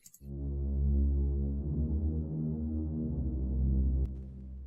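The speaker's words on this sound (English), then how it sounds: "So it's nice and deep. That's going to be like the low bass of the pads." A deep, sustained synth bass pad in FL Studio plays low chords, rich and droning, shifting once before a faint click near the end.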